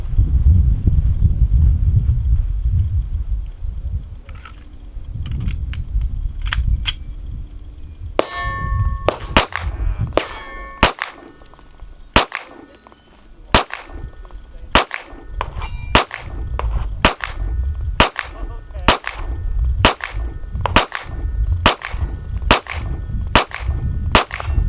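Gunshots strike steel targets in a long series of sharp pops, each followed by a ringing metallic clang, the shots coming at a fairly even pace after a rumbling start.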